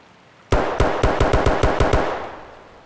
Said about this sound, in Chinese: 听见楼里传来了枪声